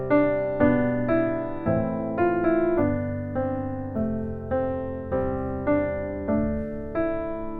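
A solo piano plays a gentle melody over chords whose bass moves step by step, each chord struck evenly in a steady, moderate rhythm.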